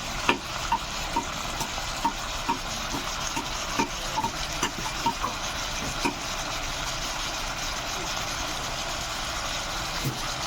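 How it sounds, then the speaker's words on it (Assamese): Chicken frying in a pan with salt and turmeric, a constant close sizzle broken by regular scraping stirs every half second or so, with no talk. "মাংস ফ্ৰাই হৈ আছে"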